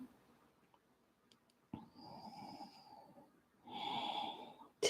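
Deep yogic breathing in an Ashtanga pose: two long, audible, slightly hoarse breaths, one inhale and one exhale, close and quiet, with short silent gaps between them and no talking.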